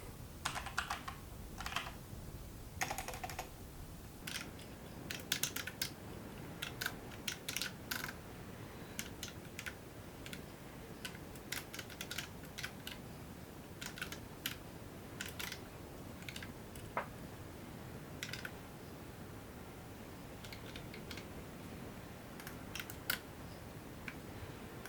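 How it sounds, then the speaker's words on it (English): Steady typing of code on a computer keyboard, a run of crisp clicky keystrokes in uneven bursts throughout, fairly close and alone without any talk. "so I'll just type it in as you've seen this before"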